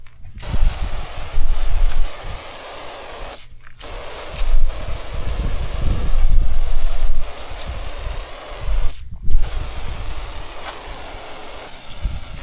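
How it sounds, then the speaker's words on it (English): WD-40 degreaser sprayed from an aerosol can onto a locked-up 6.0 Vortec LS engine outdoors, giving long steady hissing bursts broken by a few short pauses, loud and close with no talk. "As you can see, I'm using WD-40 degreaser,"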